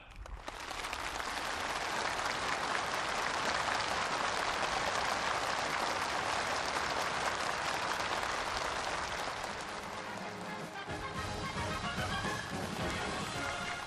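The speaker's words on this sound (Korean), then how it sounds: "전체 참가자들이 터치어올리는 열렬한 박수갈채가 준공식장을 진감하는 속에" Enthusiastic applause from a large crowd at a local industry factory opening ceremony in Jangphung County, North Korea, loud and unbroken for the full stretch with a slight shift in texture near the end.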